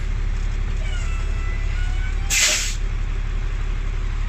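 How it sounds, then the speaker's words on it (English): A truck's air brakes are pumped during a service brake test: one short, sharp burst of air hiss cuts through a steady low engine idle rumble that continues throughout. "My next test, I'll be pressing on my service brakes at 10-second intervals until my needle starts to rise."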